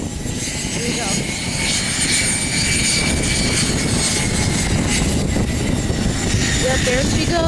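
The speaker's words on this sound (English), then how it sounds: "there's the aircraft. We're gonna get her on takeoff." An airplane takes off at Aurora Municipal Airport, a loud continuous engine roar filling the scene from start to finish over outdoor rumble, heard steadily without a clear rise or fade.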